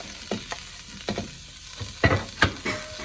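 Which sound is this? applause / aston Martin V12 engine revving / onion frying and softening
onion frying and softening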